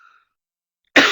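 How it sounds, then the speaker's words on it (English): A single dry, hacking cough bursts out sharply after a moment of near silence. "dry hacking cough"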